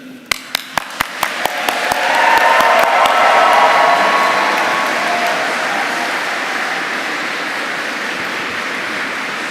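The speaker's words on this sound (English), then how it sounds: "Will you please applaud them in return?" Graduates clap for their supporters inside Canterbury Cathedral. It opens with a few sharp, separate claps, then swells into loud, dense applause that rings around the stone space and slowly fades.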